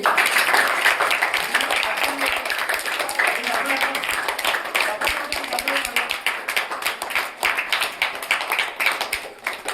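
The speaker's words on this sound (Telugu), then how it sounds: "చప్పట్లు కొట్టండి" Audience clapping at a school mother-language day celebration, sustained dense applause running throughout with scattered voices mixed in.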